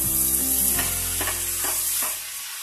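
Chopped capsicum sizzles in hot oil tempering for a Karnataka-style palya. A few stirring scrapes cut through a loud, continuous frying hiss that eases off at the end.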